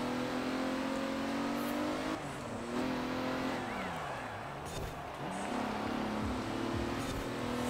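Simulated car engine in Forza Horizon 4 revving steadily, with pitch drops and climbs at gear changes and a brief lull mid-run, sustained and fairly loud throughout.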